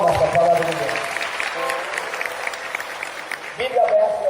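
A church congregation applauds after a Gospel reading at a Catholic charismatic service, a broad wash of clapping filling the room, with voices heard at the start and end.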